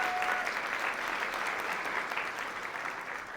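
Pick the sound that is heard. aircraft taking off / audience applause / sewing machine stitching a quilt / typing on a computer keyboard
audience applause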